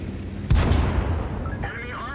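A tank cannon fires once in World of Tanks, a single loud, sharp boom followed by a rumbling decay, with faint voices after the blast.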